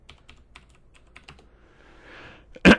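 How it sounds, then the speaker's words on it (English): Quick bursts of keystrokes on a computer keyboard, typed in an irregular run, then a short soft rustle and one loud sharp click at the end. "So it's going to type in here Harry Potter"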